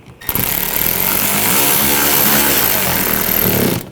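A power tool whirs steadily for several seconds, loud and close, while tightening screws during alternator replacement on a 2014-2020 Nissan Rogue with a 2.5L four-cylinder engine.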